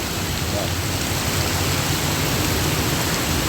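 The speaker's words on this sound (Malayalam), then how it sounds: "എന്താ മഴ" Heavy rain pours down on the Edarikode–Kozhichena road, a dense, steady roar of water that stays constant and loud for the whole stretch.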